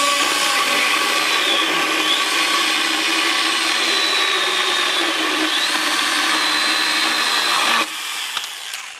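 A Stihl battery mini chainsaw whines at high speed as it cuts through wood, a loud, close, sustained buzz with slight pitch dips under load, ending abruptly as the cut finishes.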